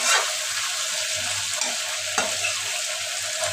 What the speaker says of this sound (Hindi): अब मैं दाल छौंक रही हूँ,